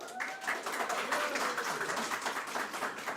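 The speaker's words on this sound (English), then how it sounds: "You're going to have to clap a lot louder for Jeremiah" An audience at a BCom graduation ceremony applauds in a dense, continuous patter of many hands clapping, steady and moderately loud in a hall, with a faint voice mixed in.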